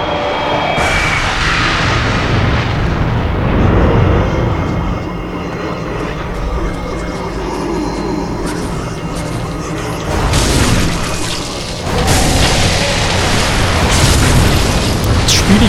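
Enemies fire at the player in Bloodborne, with heavy blasts and booms over a loud, rumbling battle din, sharp impacts breaking through near the start and again toward the end.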